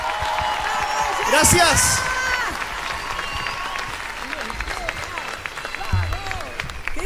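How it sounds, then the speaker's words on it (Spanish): Festival crowd at the Río Gallegos 138th anniversary celebration applauds a singer with steady, fairly loud clapping and scattered whoops, swelling early and then settling into a sustained ovation while a voice briefly says thanks. "Fuerte el aplauso"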